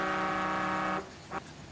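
A car horn sounds one long, steady honk for about a second, then gives a short second toot, loud and close, with no talk over it.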